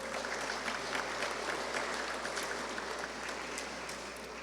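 Steady applause from an audience at an industrial forum in Chiclayo greets a speaker, an even wash of many hands clapping at moderate distance with no talk over it.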